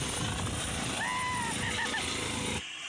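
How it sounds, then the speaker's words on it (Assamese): A helicopter flies overhead and comes in to land at a political visit in West Karbi Anglong, Assam. Its loud, steady rotor and engine roar fills the air, then drops off abruptly near the end. "এই চাওক গাইছ দেখা পাইছে হেলিকপ্টাৰটো"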